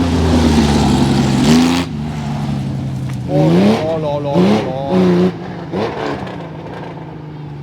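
A Porsche RSR rally car at the 2024 Rallye Côte Fleurie, its engine revving in several rising and falling bursts close by, with a voice exclaiming over the roar.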